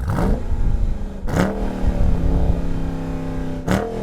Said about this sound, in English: when it starts on idle, it's really loud